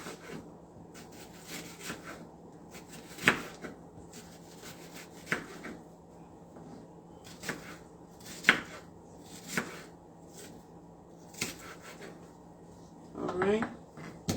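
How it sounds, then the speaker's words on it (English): Knife chopping onions on a board, sharp irregular thwacks spaced a second or two apart over a low steady background hum, close and clear, with someone talking in between. "So cut your onions however you want it."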